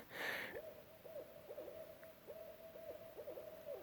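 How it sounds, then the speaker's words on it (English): An owl hoots repeatedly in a quiet wooded setting, a series of low, wavering calls in an uneven rhythm, moderately distant, after a brief bright noise at the start. "there's an owl hooting in the background"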